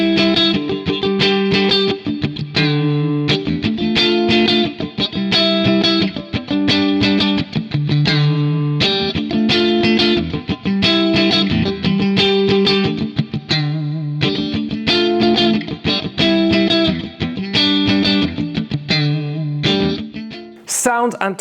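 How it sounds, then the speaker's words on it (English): A Fender Ultra Luxe Vintage 60's Stratocaster electric guitar plays loud, continuous chords and riffs through effects, with distortion and chorus shimmer, ending in a sharp high flourish. "Sounds and tones that you can get out of this guitar"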